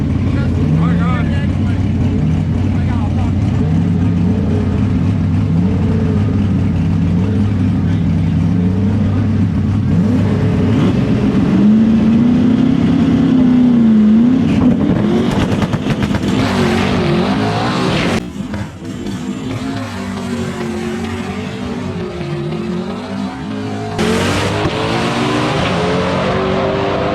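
A naturally aspirated race car engine roars loud and close throughout, its pitch climbing and falling through gear changes as it accelerates, with a few sharp bursts near the end and speech at times.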